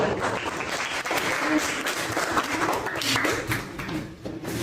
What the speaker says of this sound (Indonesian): Tepuk tangan Badri